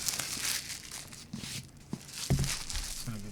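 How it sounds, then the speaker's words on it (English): Packaging of a OneXplayer Apex handheld gaming PC is torn and crinkled close up, with dense rustling, crackling plastic and paper, and a few sharper tearing and thumping moments. "get to hear all that good"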